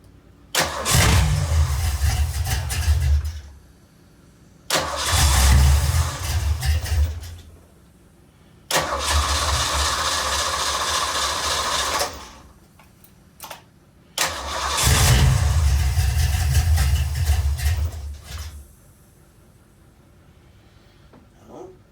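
A project car's engine with off timing is started up repeatedly. Four loud, close bursts of cranking and rough running each last a few seconds before cutting out, with short silent gaps between them.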